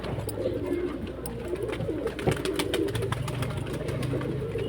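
Pigeons coo softly and repeatedly nearby in a pigeon-keeping setting, with low, rolling calls overlapping. A faint background hum runs under the calls and occasional light knocks sound.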